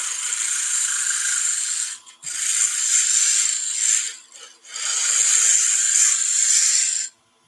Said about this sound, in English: Now I'm going to skim the surface just with a drag cut.